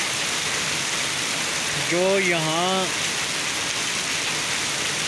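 Steady night rain falls in Murree, a continuous dense hiss throughout, while a voice speaks briefly in the middle.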